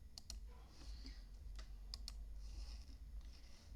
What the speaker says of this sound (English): maybe somebody's typing.